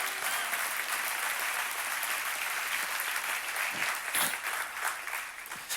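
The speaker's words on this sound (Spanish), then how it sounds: "Ya te dan un aplauso fuerte a Dios." A church congregation at an Easter Sunday service applauds loudly and steadily, a dense, even wash of many hands clapping that holds throughout with no pauses.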